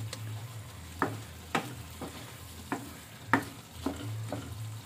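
Pork adobo with pineapple chunks and Sprite stirred in a pan, a steady low sizzle broken by several sharp scraping clacks of the utensil against the pan at irregular intervals.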